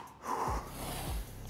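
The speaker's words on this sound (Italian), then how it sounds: "Tre respiri." Deep, forceful breaths drawn in a gym before an exercise, with two heavy gasping inhales close by, each followed by a held, noisy exhale.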